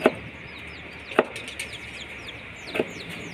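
A hard blade chops feed for hen chicks on a board, three sharp isolated knocks spaced about a second apart, close and distinct over quiet outdoor ambience with faint chick chirps in the background.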